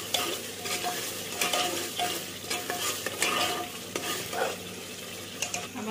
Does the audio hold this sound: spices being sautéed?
yes